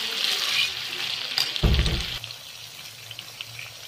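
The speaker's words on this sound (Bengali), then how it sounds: "এখন লাল করে ভেজে নিই।" Boiled pointed gourd and potato pieces frying in oil, giving a steady bright crackling hiss throughout with a brief low thump and stir near the middle.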